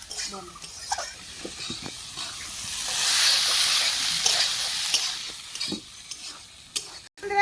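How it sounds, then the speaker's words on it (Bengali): Soybean chunks and potato with spices being stir-fried, a bright hissing sizzle that swells in the middle while a spatula scrapes and knocks against the pan in short, irregular strokes. "এটাও কিন্তু ভালো করে ভাজা ভাজা করে দেবো।"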